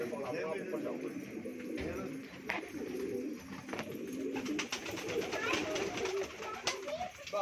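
Pigeons coo softly and repeatedly, with bird calls and a voice talking in the background.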